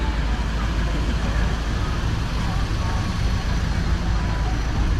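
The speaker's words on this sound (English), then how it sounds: "Another truck is coming." A truck passes on a road beside the Mekong in Luang Prabang, Laos, a loud, steady engine and tyre roar close by that holds for the whole stretch with no break.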